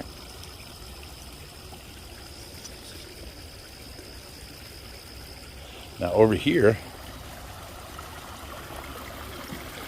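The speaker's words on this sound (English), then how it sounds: "we can't really see this little waterfall, and this big plant is covering this waterfall" A small waterfall splashes steadily into a fish pond at a fish rescue, a faint, constant trickling wash running throughout. Someone speaks briefly near the end over the water.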